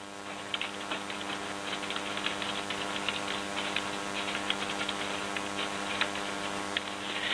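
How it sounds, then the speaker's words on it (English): Steady, fairly quiet typing on a computer keyboard, with a quick run of light key clicks and occasional louder taps over a faint background hum. "we're going to type some text on our index page"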